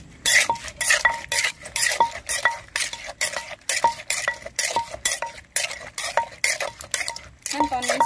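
A utensil scrapes and taps repeatedly against a pan or bowl while boiled fish and fish sauce are stirred into a spicy mushroom and squid salad, in a quick irregular rhythm, close by with no talking.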